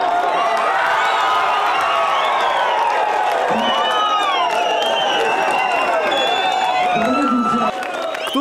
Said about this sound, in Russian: Кто-то аплодирует и восторженно кричит «Рашид чемпион»